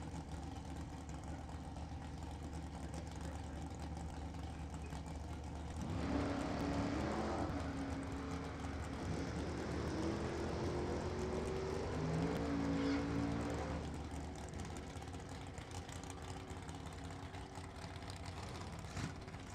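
Two NHRA drag race cars, a Chevelle and a Vega, idle with a low, rumbling burble, then swell into a louder engine roar for several seconds before settling back to a steady idle.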